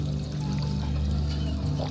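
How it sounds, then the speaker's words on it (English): Water pouring steadily into bottles at a spring in Fallout 4, a continuous close trickling stream with no break. "let's also go and fill some bottles here"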